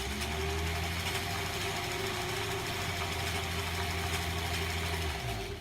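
A sewing machine runs steadily while stitching granny-square quilt pieces, a continuous close motor hum with a fine, even rapid chatter that slows and stops at the end.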